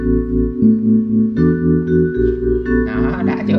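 A vibraphone demo song plays on a Kawai CA48 digital piano, with sustained mallet-like tones forming a slow melody over chords, clear and fairly loud, growing fuller toward the end.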